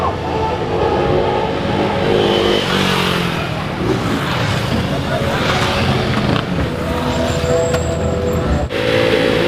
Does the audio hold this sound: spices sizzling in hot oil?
no